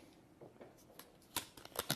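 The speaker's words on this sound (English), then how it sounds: "Then let's shuffle the cards like this, and then shuffle the cards like that." A deck of playing cards is shuffled for a board game playthrough, with soft riffling at first followed by several crisp, louder card snaps and flutters near the end, close and quiet with no talk.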